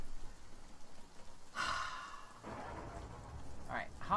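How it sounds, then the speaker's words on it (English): Rain falls in the pirate game Sea of Thieves, a steady soft hiss of drops at sea, overlaid by a few brief breathy vocal noises. "I think what I can hear is probably the rain"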